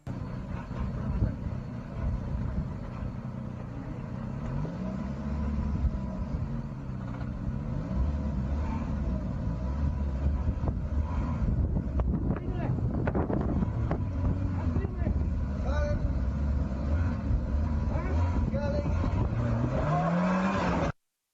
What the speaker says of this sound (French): une petite vidéo de quelqu'un qui manie très très bien sa voiture. Incroyable. Il va passer un pont en Chine.